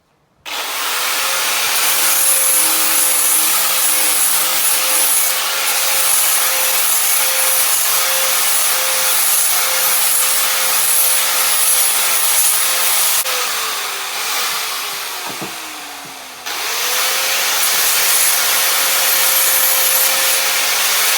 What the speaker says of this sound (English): let's try and get some of the rust off this thing